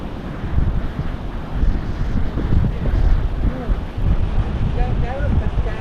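Steady gusts of strong seaside wind at Mandvi Beach, Ratnagiri, rumble close to the microphone over the wash of breaking waves, with brief murmurs of voices in the background.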